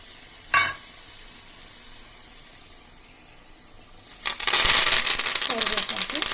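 Mustard seeds, dal, asafoetida and dried chillies hit hot oil: a single early knock, a quiet pause, then a loud crackling, spitting sizzle bursts up for the final two seconds.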